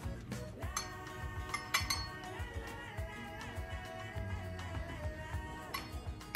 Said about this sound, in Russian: Для этого смешиваю 4 столовые ложки растительного масла